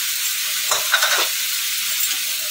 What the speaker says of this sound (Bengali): এর মধ্যে এখন ভেজে রাখা আলুটা দিয়ে দিলাম।